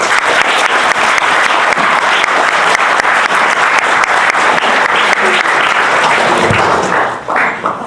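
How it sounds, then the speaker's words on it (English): Loud, sustained applause from an audience at a middle school fall athletic awards ceremony, dense clapping for coaches and athletes that carries on evenly and fades near the end. "I would like for everyone to give a round of applause to your coaches and peers"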